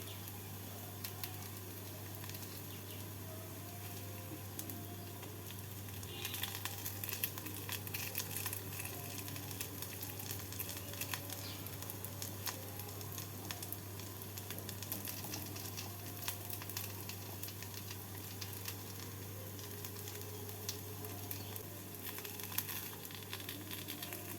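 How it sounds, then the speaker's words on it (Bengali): Chicken potato tikia frying in hot oil, a steady soft sizzle and crackle with faint patter, continuous and close, under a constant low electrical hum. "ভাজার সময় একটু চেপে চেপে দিয়ে ভেজে নেবেন তাহলে ভেতরটাও ভালোভাবে ভাজা হয়ে যাবে"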